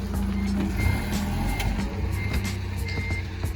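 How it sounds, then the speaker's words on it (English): A forklift at a combine during oat and canola harvest sounds steady reversing beeps over a low engine rumble, the tones repeating at an even pace throughout. "Now Brent's on here with the forklift."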